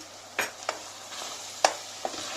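Chicken breast cooking in a pan with curry and olive oil, a soft low simmer under a handful of sharp spoon or spatula knocks against the pan, spaced irregularly.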